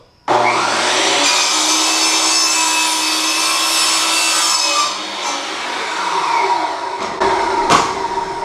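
Hand saw with a dull blade cutting through wood, a loud continuous rasping stroke that runs several seconds before slowing into a few shorter, rougher strokes near the end, with no talk.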